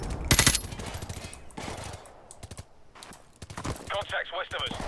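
Gunfire in Modern Warfare Remastered, a sharp burst of automatic shots near the start and scattered shots after, fired from beside a dumpster, with a voice talking over the action.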